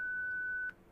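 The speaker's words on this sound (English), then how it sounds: "Please name the person in front of you after the beep." A device gives a single steady electronic beep lasting about two-thirds of a second, then cuts off into quiet room tone.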